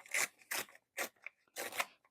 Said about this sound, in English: So I'm just gonna go ahead and cut this whole section here.